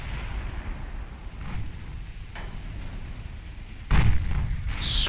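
Warship guns fire in the naval battle game Ultimate Admiral Dreadnoughts, with a low, rumbling battle ambience that breaks into a sharp, loud boom near the end.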